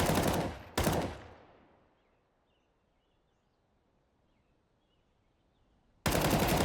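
Counter-Strike 2 gunfire: a loud burst of rapid shots, then a second sharp volley that rings out and decays into near silence, followed by another loud burst of firing at the end.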